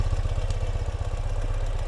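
A 2017 Ural cT motorcycle in bronze metallic idles close by, its exhaust giving a steady low, throbbing pulse with a faint mechanical clatter and no talk.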